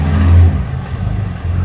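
Cummins diesel truck fitted with a jet-sound exhaust modification, one short loud rev that swells and then settles into a rumbling idle, close by, with no talking.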